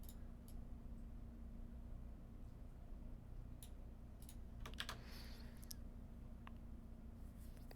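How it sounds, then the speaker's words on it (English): Computer keyboard keys clicking steadily during a digital recoloring session, faint and even clicks over a constant low hum with no talking. "You're hearing the clicky clack of my keys."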